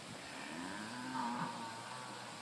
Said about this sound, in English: So we've got some cows here, some local cows.